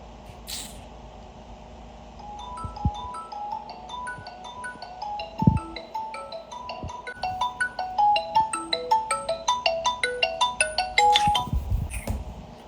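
A phone ringtone plays a repeating melodic tune that starts softly and grows louder and more insistent over several seconds, with a couple of sharp knocks and bumps in between and no voices.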